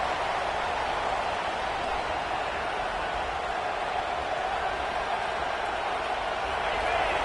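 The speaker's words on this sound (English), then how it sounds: "Listen to this crowd just shaking the girders of this place, trying to help their defense." A stadium crowd in a college football video game, Ole Miss against Clemson, roars as a continuous wash of cheering, steady and fairly faint, with no distinct claps standing out.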